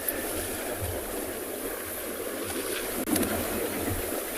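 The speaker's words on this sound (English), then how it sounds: "Just going to listen to the splashes quickly." Elephants at a waterhole splashing and rolling during a sunrise safari at Tswalu, heard as a continuous watery wash with soft sloshes and one sharper splash near the end, no talking.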